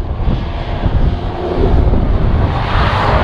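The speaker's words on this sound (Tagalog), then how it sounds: "Saka ang lakas ng hangin." Strong wind roars steadily across the microphone while riding a Honda Wave 100 motorcycle on a high mountain road in Ifugao, a loud continuous buffeting rumble with the engine buried beneath it and no talk.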